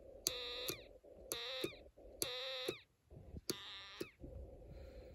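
A Snap Circuits Extreme SC-750 whistle chip with an adjustable resistor gives a series of rising-and-falling electronic tones, like a cat's meow, in about five separate bursts with short gaps between them. The tones sound clear and close, with no talking.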